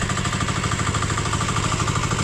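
A machine engine running near a rice paddy during rice seed sowing, a loud steady mid-pitched drone with a fast regular chugging pulse that stays close and constant throughout, with no talking.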